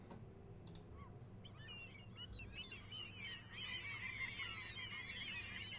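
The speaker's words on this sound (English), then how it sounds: "you'll hear it generates lots of different gull sounds" Layered high, squealing gull calls looped in FMOD for Unreal Engine game ambience, overlapping and repeating, building in density after a quieter start, over a soft low background hum.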